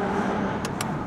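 An Audi S5 tuned to over 600 horsepower cruises in a milder drive mode, giving a steady, close engine and exhaust drone for about a second, with a couple of brief sharp ticks on top.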